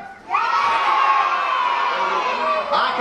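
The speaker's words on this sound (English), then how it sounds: "but if you're not on the list, give me a big cheer." School children at a pantomime school show cheer and shout loudly together as a crowd, a sustained burst of young voices that starts abruptly and holds steady throughout.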